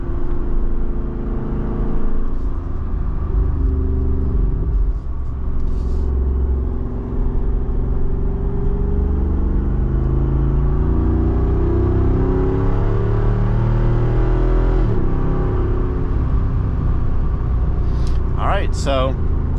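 A Jeep Wrangler Rubicon 392 drives through a series of turns, its engine rumbling steadily and rising and falling with throttle, with road noise underneath and a voice talking over it.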